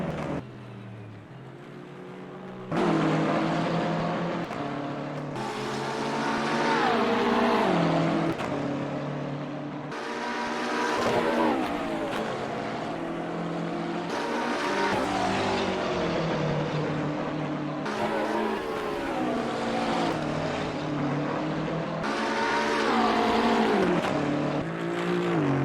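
Race car engines in a sim racing game at Brands Hatch rev and shift repeatedly, their pitch rising and falling through gear changes, loud and sustained with no talk.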